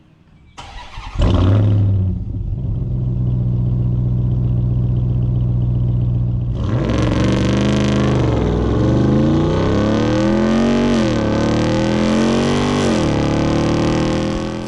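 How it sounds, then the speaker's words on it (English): A 2022 Ram 1500 TRX pickup fires up and revs hard through its large bumper-cut exhausts, a loud, deep rumble that swells and falls in repeated throttle blips after a short idle, close and steady without talk. "those huge exhausts, which let's go ahead and let you listen to it"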